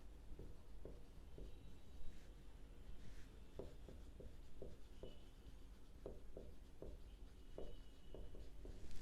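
Marker or chalk writing on a board during an accounting lesson, a quiet series of short scratchy strokes in an irregular rhythm over a low room hum, no speech.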